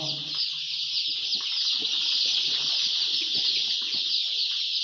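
Chicks at a poultry farm peep constantly in a dense, high-pitched chorus, with a few lower clucks from chickens mixed in near the start; the chatter stays busy and fairly close throughout.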